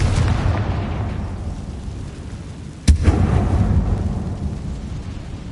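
A Confringo fire spell in the Hogwarts Legacy video game bursts as one sharp, loud explosion midway, rising out of a steady low rumbling game ambience and fading into a lingering roar.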